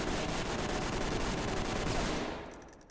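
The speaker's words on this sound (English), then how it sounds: "this is going to be me taking the shot with no recoil control" Rifle fired in rapid automatic bursts in the tactical shooter Ready or Not, a dense, loud, continuous stream of shots lasting nearly three seconds before cutting off abruptly.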